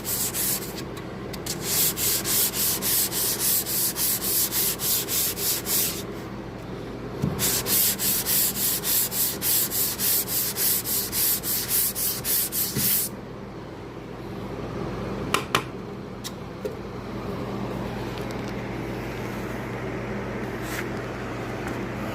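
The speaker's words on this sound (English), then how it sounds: "block sanding down into the primer." Steady, close scraping of a sanding block worked over dried primer on a car body, the Moon Patrol project car, in long rhythmic strokes with brief pauses, then a softer continuous hiss.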